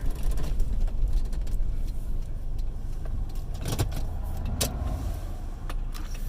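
A car pulls over and parks on a dirt road near trees in Kippens, Newfoundland. A close engine rumble with tyre crunch settles, and brief mechanical clunks and whirs follow as the vehicle stops.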